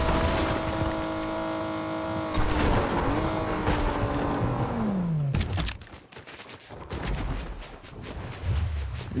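A car in Fortnite drives with a steady engine drone, then its pitch sinks as it slows. Bursts of rough skidding and crunching noise follow in irregular clusters.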